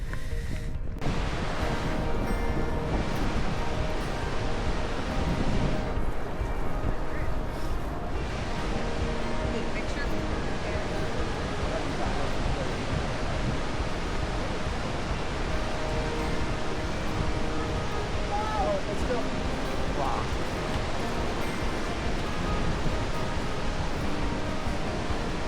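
Thunderous waterfall on Iceland's south coast, approached on a path that runs right beside the falls, producing a dense, steady roar close by that never lets up, with wind buffeting the microphone and voices talking faintly underneath.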